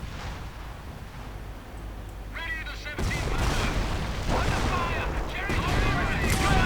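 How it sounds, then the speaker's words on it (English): Rockets and gunfire crackle through a busy video game battle between two players, with dense overlapping bursts throughout and a louder barrage swelling in the second half. "Rockets flying away."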